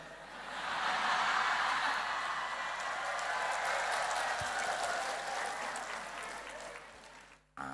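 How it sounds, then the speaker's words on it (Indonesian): An audience at a religious gathering breaks into applause, heard as a soft, dense wash of clapping from a distance that holds steady for several seconds before cutting off. "Aneh kenapa tepuk tangan."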